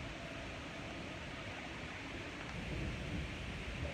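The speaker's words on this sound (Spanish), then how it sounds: "Comentarles que nuevamente está cayendo lluvia. Poco a poco se está intensificando." Steady, dense rain pours down during a storm in Colima, with a low rumble of thunder building toward the end as the downpour grows heavier.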